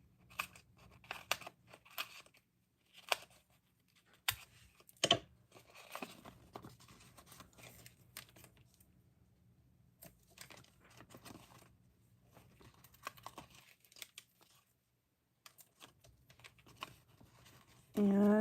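Paper stamping pieces are trimmed with scissors in short intermittent snips and rustles, quiet and close, with pauses between cuts and a sharper handling noise at the end.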